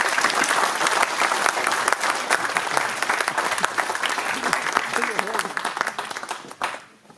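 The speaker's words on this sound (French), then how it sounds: "on peut les applaudir." Audience applause at a French public campaign rally for a second-round election, dense sustained clapping from a crowd filling the room for about six seconds before tapering off at the end.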